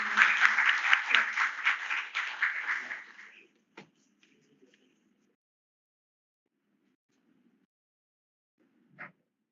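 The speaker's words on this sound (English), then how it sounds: "I'll request you all to please welcome the chief guest with a round of applause" Applause from a lecture-hall audience welcoming the chief guest at a memorial lecture, a steady burst of clapping for about three seconds that fades out, followed by near silence with a couple of faint knocks.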